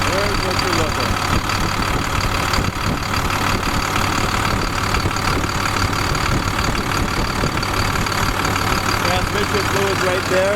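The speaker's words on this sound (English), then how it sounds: "Gotta love the sound of that. I love the DT466" A 2009 International 24 ft box truck's DT466 diesel idles steadily and close, with a constant low rumble and faint knock throughout, while someone talks over it.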